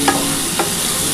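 Spinach frying in a pan, a constant close sizzle with two brief clinks of a spoon against the pan, no voices present.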